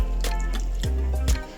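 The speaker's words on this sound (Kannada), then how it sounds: "ಇವಾಗ ಇದಕ್ಕೇ ಒಂದು ಅರ್ಧ ಗ್ಲಾಸ್ ನೀರು ಹಾಕ್ಕೊಳ್ಳಿ" Half a glass of water poured into a bowl of instant dosa batter mixed with curd, a steady close pour with a low running gurgle and a few brief splashes and clinks near the end.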